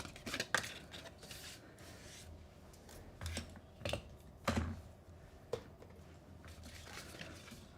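A handheld paper corner punch rounds the corners of a paper template, several sharp crisp clicks and snaps at irregular intervals with quiet rustling of paper between them, close and alone.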